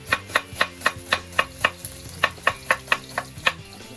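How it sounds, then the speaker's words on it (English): Kitchen knife slicing a halved onion on a chopping board, about fifteen sharp, evenly spaced cuts in a steady rhythm, close and clear with no talking over it. "Taking the stalk out the other half."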